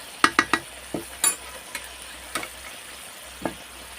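A spoon stirs turmeric and chili powder through spices frying in a pan, giving a quick run of sharp scrapes and knocks followed by a few sparse clinks over a faint, steady sizzle, with no voices.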